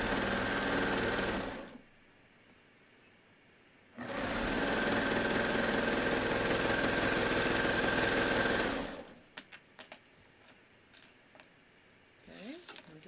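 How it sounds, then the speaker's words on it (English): A serger overlocker stitches the side seams of a T-shirt in two loud, steady whirring runs of about two and five seconds, separated by a quiet pause, followed by faint handling clicks of the fabric and machine. "so I'm just serging my side seams here."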